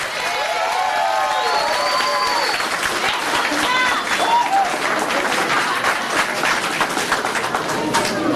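An audience applauds at a 2009 talent show, with steady, dense clapping that stays loud for the whole stretch while voices and some cheering come through over it.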